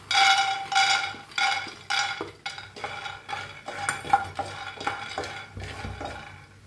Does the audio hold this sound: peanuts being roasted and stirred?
yes